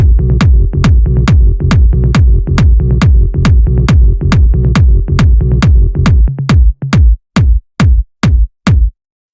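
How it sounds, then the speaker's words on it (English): A distorted 909-style kick drum with a bass line in a hardgroove techno track pounds in a loud, steady four-on-the-floor pulse, with the bass dropping out near the end and leaving bare kicks. "The first channel here is the kick and bass"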